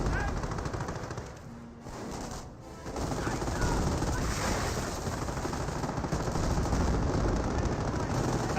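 MG42 machine gun fire in a Company of Heroes battle, dense continuous gunfire and explosions filling the mix with brief dips, under faint game-caster talk.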